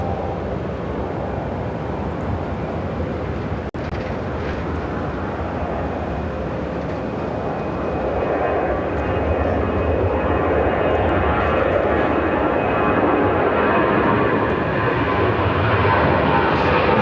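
A United Boeing 757 jet at Chicago O'Hare, its engines roaring in a loud, sustained rumble that swells slightly as it goes on, with a brief click partway through.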